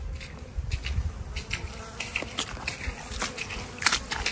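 Honeybees buzz and fly in front of their beehives, a steady close-up hum with individual insects zipping past the microphone in brief louder passes.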